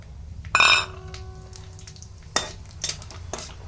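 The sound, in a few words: tempering spices sizzling in oil in a wok: fennel, dried chilli, bay leaf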